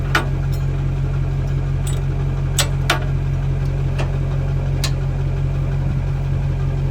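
An LLY Duramax diesel truck engine idles steadily and close by, with a low, even rumble and a few faint clicks and ticks on top.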